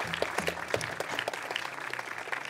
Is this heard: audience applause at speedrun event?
yes